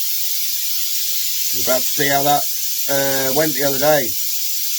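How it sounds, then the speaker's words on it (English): A loud, continuous high hiss of a pressure pot decompressing runs throughout, with a person speaking over it briefly. "That is the sound of the pressure pot decompressing."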